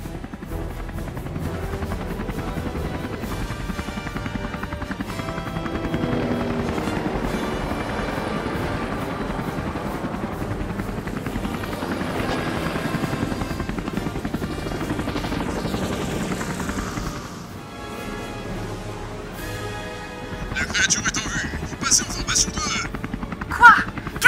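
Combat helicopter in the video game Parasite Eve, a continuous loud rotor drone with game sound effects and music, a voice speaking over it near the end.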